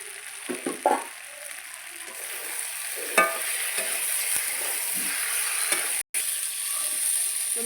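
Fish heads dropped into hot spiced oil in a pan, a loud sizzle rising after a few scraping stirs, then a steady close frying hiss with occasional utensil clatter.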